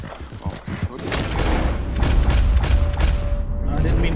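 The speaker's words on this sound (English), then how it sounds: "I didn't mean to shoot the horse." A gunshot fired at a horse in the Red Dead Redemption 2 video game, a sharp bang amid booming, rumbling game sound effects that swell and continue to the end.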